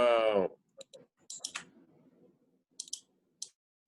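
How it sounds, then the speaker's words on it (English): Several quick, sharp clicks of someone typing on a computer keyboard come in scattered bursts after a brief opening tone, fairly close and alone, with short quiet gaps between keystrokes. "I could hear somebody typing away on their computer and it's pretty loud"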